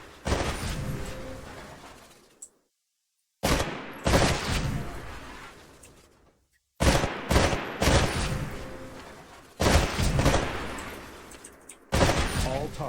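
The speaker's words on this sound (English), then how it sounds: "To take a more calculated shot, you can aim down the sights of your weapon. Destroy all of the targets in the shooting range." Rifle gunfire in the Titanfall video game shooting range, loud rapid bursts of automatic shots hitting targets, repeated in several volleys separated by short silences.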